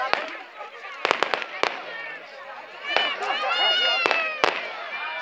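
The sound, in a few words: fireworks at the Gepiu village days festival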